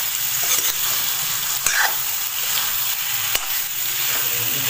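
Chicken ghee roast fries in a pan with a loud, steady sizzle that fills the whole stretch, broken now and then by sharp clinks of stirring against the pan.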